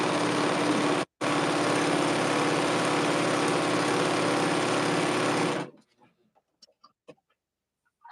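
A sewing machine runs loud and steady with a brief pause near the start, then stops; faint voices follow in the quiet.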